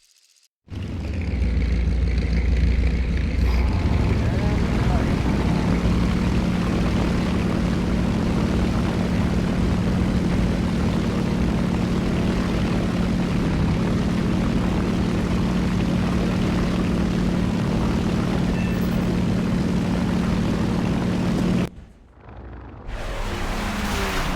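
Propeller aircraft engines drone steadily and loudly in a World War II air combat game, a continuous heavy hum with no talk that cuts off briefly near the end before resuming.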